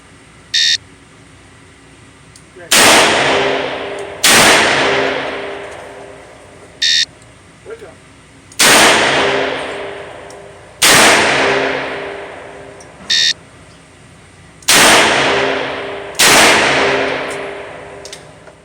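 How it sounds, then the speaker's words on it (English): Colt MKV Trooper revolver fired at a shooting range: loud sharp gunshots with reverberant tails, six reports in paired bursts a few seconds apart, interspersed with brief electronic timer beeps. "On command, fire 2 rounds in 5 seconds, unload and safe the firearm."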